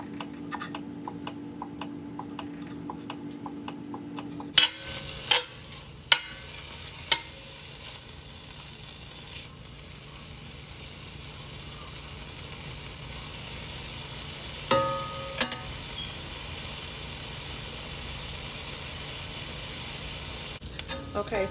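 Cut-up bacon strips fry in a skillet over medium heat, giving a steady close sizzle throughout, broken by a few sharp clicks and taps from a utensil against the pan.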